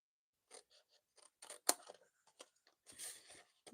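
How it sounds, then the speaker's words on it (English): Scissors cutting scored corners off a paper card box, heard as a quiet series of short crisp snips and paper rustles with a brief sharper snip in the middle, close and alone. "So we're going to cut out this corner"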